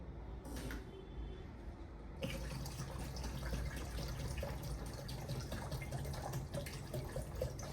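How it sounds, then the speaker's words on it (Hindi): Demineralised water poured slowly into a body mist mixture, a steady liquid trickle and splash that grows fuller after a brief quieter start, continuing throughout without speech. "अब डीएम वाटर हम लोग धीरे धीरे डालेंगे इसको।"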